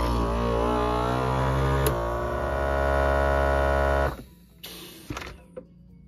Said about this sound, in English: You're going to turn the power on your vacuum sealer, and then it's going to say dry seal.